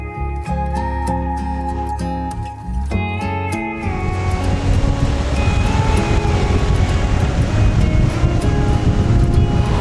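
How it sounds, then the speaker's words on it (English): Riding in an old-school Hong Kong taxi as it winds round and up a hill, heard as a steady, loud rush of road and wind noise that takes over from tonal sounds in the first few seconds. "This is one of the coolest taxi rides I've ever had in my life."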